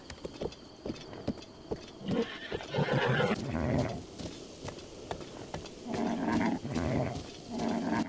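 A horse in The Legend of Zelda: Breath of the Wild whinnies loudly twice, a long neigh near the middle and another toward the end, among snorts and hoofbeats in the game sound.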